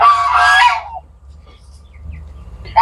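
Geese honk loudly and close up in a dense burst for about a second, then quiet, with another honk starting at the end, at a farm fishpond with ducks and chickens.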